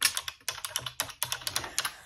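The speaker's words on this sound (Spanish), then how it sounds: "Este teclado retro, ¿qué me contáis de esto?" Fingers clack on a retro-style computer keyboard with round typewriter-like keys, a steady run of crisp, close keystrokes in an uneven rhythm with no talking.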